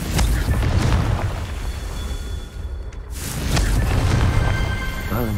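Confringo blasting spell in Hogwarts Legacy, a loud sustained rumbling boom with whooshing burst, briefly dipping before a second heavy blast surge, with game sound effects layered throughout.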